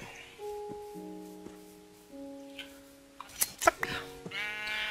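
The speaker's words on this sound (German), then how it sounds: "Und mit der schicken Schere gehen wir jetzt mal unsere Schafe suchen, die hier vorne irgendwo rumrennen müssten." Minecraft sheep bleat while being sheared, several short nasal bleats in the second half, the last ones loud and close, over soft sustained in-game music tones.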